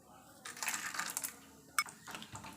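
A handful of roasted gram and peanuts tumbles into a frying pan, a burst of small hard rattling clicks followed by a second scattering patter, close and fairly quiet.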